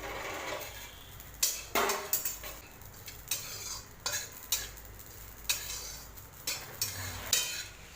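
Bay leaves dry-roasting in a pan for garam masala, stirred with a utensil that scrapes and taps the pan in a steady rhythm of short strokes over a faint background hiss, close and fairly quiet.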